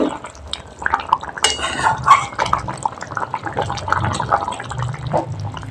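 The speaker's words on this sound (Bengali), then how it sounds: "এবার আমি একটুখানি নেড়ে নেব" A spoon stirs prawn and pumpkin curry in a pan, giving close scraping and wet clinking against the metal, with moist squelching under a steady soft kitchen background.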